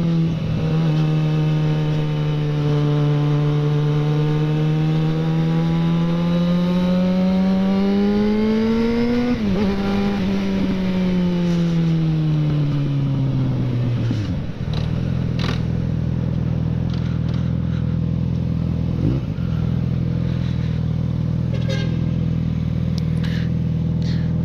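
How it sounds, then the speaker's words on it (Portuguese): A Yamaha XJ6 motorcycle running a straight-pipe exhaust revs hard, its pitch climbing steadily before dropping back to a loud, rough idle that rumbles on alone, close to the bike. "Vou dar uma aceleradinha agora, ó."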